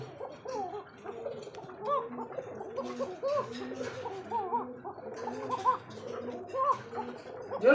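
Pigeons kept on a loft farm coo softly and repeatedly, overlapping throaty warbling calls at close range, rising and falling in loudness, with no clear speech over them.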